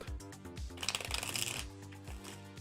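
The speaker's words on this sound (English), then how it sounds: "I'm going to just shuffle and cut one more time just for fun." Tarot cards being shuffled and cut, a close, soft riffling flutter with a few light taps as the deck is squared, heard alone.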